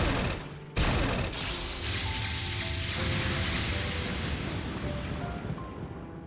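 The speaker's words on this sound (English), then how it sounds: "That's a big gun. That's what the woman in Arostion used. The needle gun." A needle gun fires in the Trails Beyond the Horizon video game: a loud, sustained hissing barrage like rapid fusillade, with a sharp burst near the start and a dense sizzling roar after it.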